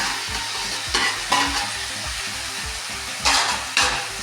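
Tomatoes frying in a pan with onions for a kurma, a constant sizzle with rhythmic stirring strokes and a few louder scraping bursts, close and without speech.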